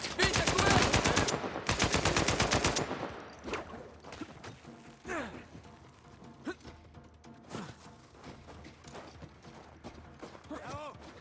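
Rapid bursts of gunfire from a sniper and other weapons in the Uncharted 4 video game, loud and dense for the first few seconds, then thinning to scattered shots and impacts with occasional voices.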